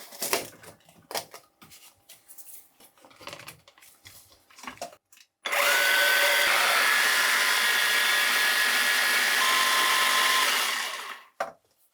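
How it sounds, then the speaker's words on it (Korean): A blender grinding roasted laver (gim) into powder, a steady loud whir lasting several seconds before spinning down, preceded by light clicks and rustles of loading the jar. "이제 잘 구워진 김을 블렌더로 갈아주겠습니다"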